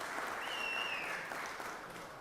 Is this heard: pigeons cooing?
no